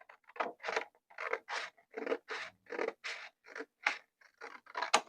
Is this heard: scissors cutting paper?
yes